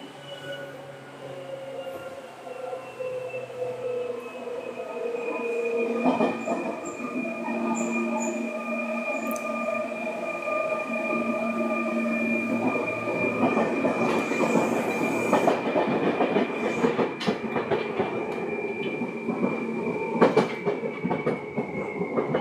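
A Seibu 2000 series electric commuter train runs along the rails, its motor whine rising in pitch as it gathers speed, wheels clattering over joints.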